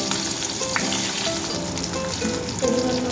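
Eggplant pieces fry in the leftover fish oil with a dense, steady sizzle and bubbling crackle, close and loud, with faint scraping from stirring and no talk.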